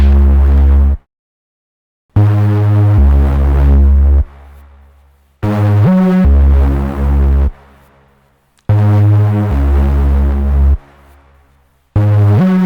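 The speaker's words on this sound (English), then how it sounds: "This sound is just like a Reese bass" A Reese bass synth patch from Serum in a beat throbs in heavy, distorted low notes, playing in loud bursts separated by abrupt silences.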